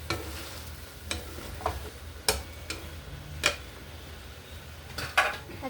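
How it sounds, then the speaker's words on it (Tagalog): A utensil stirs food in a cooking pot while a dish is being cooked, giving sparse clinks and scrapes against the pot at irregular intervals with a quiet background hum and no talking. "Mikos-mikos natin ito para malamian."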